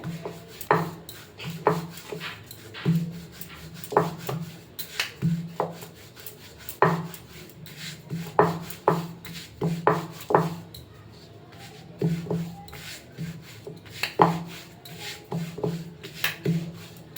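Rolling pin working flour dough for a snack knocks and rolls against the board in a steady series of short, dull thumps, close and fairly loud, with brief pauses between strokes.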